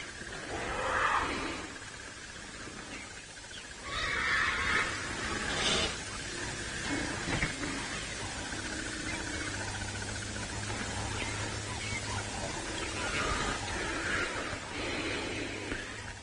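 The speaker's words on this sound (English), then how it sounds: "the elephants are shouting at each other now" A herd of elephants calls and shouts loudly at one another during a sunrise safari drive, with a youngster screaming. Harsh, broadband bursts rise and fall over a steady low rumble.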